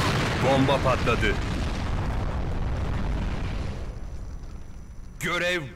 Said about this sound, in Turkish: Bomba patladı.